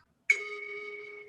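A short melodic tone plays from a phone as a saved Instagram Reels music snippet, a sustained chime-like note with a second onset at the end, after a brief silence.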